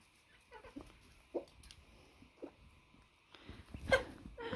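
Hens sorting out their pecking order, with a few sparse, faint clucks and short squawks at close range against quiet surroundings.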